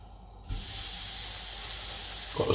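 Pork chops sizzle in a hot pan: after a brief quiet start, a loud, steady hiss sets in abruptly and runs on without a break, close by, with no talking.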